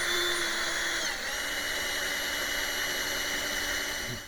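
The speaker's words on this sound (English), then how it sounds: "Keep it lubricated while we're drilling." A drill whines steadily and continuously while boring out a snapped Craftsman extractor kept lubricated with oil, a loud, even, high-pitched grinding tone with a slight dip in pitch partway through.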